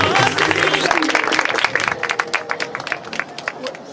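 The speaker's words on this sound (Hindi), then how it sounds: "अंकल के लिए जोरदार तालियां।" A church crowd at a New Life Ministry birthday celebration claps loudly for an uncle, a thick, close burst of applause mixed with crowd chatter and speech that gradually thins out.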